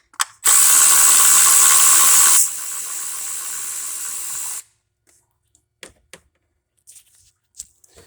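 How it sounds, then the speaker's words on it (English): A cordless power ratchet buzzes loudly for about four seconds, stepping down to a lower, quieter whir partway through, as 10mm ignition coil bolts come out, followed by scattered light clicks and taps of tool handling. "Take out the 2 10mm bolts for each coil."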